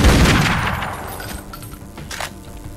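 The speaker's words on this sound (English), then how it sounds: "I'm using guns that aren't the handguns a lot more than I was in Anniversary" Gunfire in the video game Tomb Raider: Legend opens with a loud burst of shots that fade into a ringing tail, followed by a few quieter, scattered reports.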